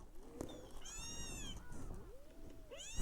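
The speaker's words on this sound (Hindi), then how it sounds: "ढूंढ रही है कि कहाँ है बिल्ली जिसकी आवाज़ आ रही है" A cat at a village home meows twice, clear and close, with long wavering cries and faint background noise.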